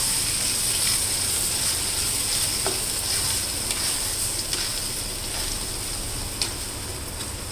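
Onion, tomato, coconut, poppy seed and cashew paste fries in oil with beans for a potato gravy curry, giving a steady, close, hissing sizzle with faint stirring clicks throughout.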